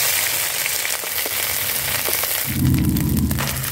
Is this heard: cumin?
yes